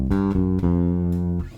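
Bass guitar playing blues-rock approach notes in quick eighth notes, with a few plucked notes stepping into a sustained target note. Deep and close, with no voices.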